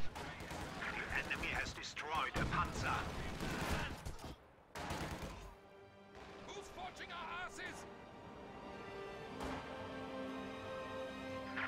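Sherman tank flanking and destroying a StuG in a World War II strategy video game: loud bursts of gunfire and explosions crowd the first half, then quieter battle noise and scattered shots continue under a talking voice.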